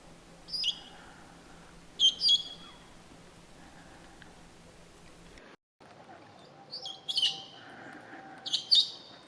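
Scattered squawky calls of parrots endemic to Ethiopia, in the Bale Mountains, a few short bursts with pauses between them over a quiet background, fairly faint and at middle distance.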